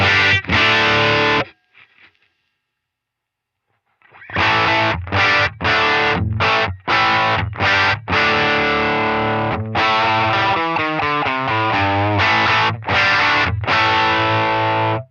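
Overdriven electric guitar plays chopped, sustained chords with a short silence near the start, the amp's bite control turned all the way down, so the distortion is thick but slightly softened in its top end.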